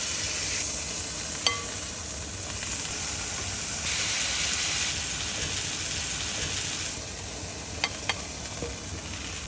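Pork liver fries in an oiled pan with a steady, loud sizzle and hiss throughout, broken by a few sharp utensil clicks near the start and end.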